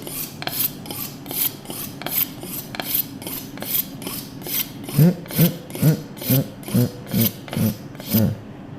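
A kitchen knife is sharpened with steady back-and-forth rasping strokes, about two per second, close and fairly loud, the scraping growing heavier in the later strokes, with no talk.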